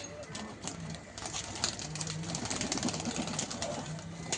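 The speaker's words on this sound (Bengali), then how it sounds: "সমস্ত পায়রা এখানে এসে গেছে" Pigeons coo steadily in a Kolkata hobby loft at night, soft low repeated calls overlapping close by, with the occasional brief flutter of wings.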